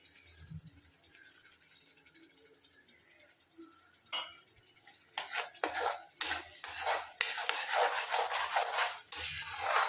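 Spiced masala being fried and stirred in a pan, with a quiet start, then scraping of a utensil against metal and steady sizzling that grows louder and busier, close up with no talk.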